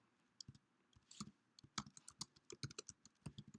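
Rapid, irregular keystrokes clatter on a computer keyboard as a search query is typed, crisp clicks close and clear with short pauses between bursts, no talking.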